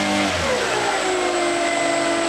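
The electric motor on a Vanquish 2 m RC airplane with a Castle Ice2 HV80 controller spins down as the brake engages. A loud whine slides downward in pitch and then settles into a steady lower tone, close up.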